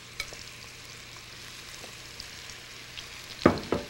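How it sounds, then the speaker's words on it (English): Steak tips searing in hot olive oil in a saute pan give a steady, quiet frying hiss, with a sharper burst of sizzle near the end as the meat settles into the oil. "we're going to lay our steak tips right into the olive oil. And they're starting to sear immediately"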